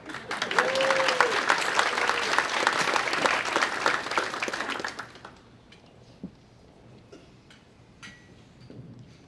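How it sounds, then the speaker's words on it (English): An audience at an awards luncheon claps steadily for about five seconds and then the applause stops abruptly, leaving a quiet room with a few faint knocks. "a round of applause"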